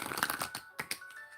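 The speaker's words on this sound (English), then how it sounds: "Let me do one last shuffle." A deck of oracle cards shuffled once in a quick, quiet riffle of soft flicking taps lasting about a second, nearby and alone.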